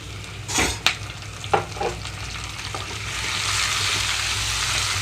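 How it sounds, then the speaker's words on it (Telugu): Onions frying in a pan for a dal rasam, with a few stirring scrapes and clinks early on and a steady soft sizzle that grows louder toward the end, close by and with no talking. "కొంచెం వేయించుకుంటున్నాను ఇక్కడ ఉల్లిపాయలు"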